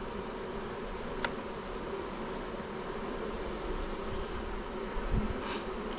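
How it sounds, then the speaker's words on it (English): Honey bees buzzing around an open hive in an apiary, a steady close drone of many wings with a few sharper passes of individual bees, continuing without a break. "Lovely bees, lovely small bees."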